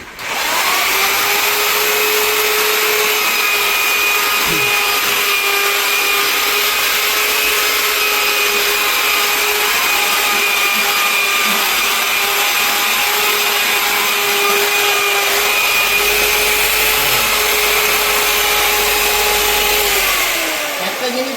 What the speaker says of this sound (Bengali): আমরা একদম হাই আরপিএম এ 3000 আরপিএম এ আমরা কিন্তু চালাচ্ছি মেশিনটাকে।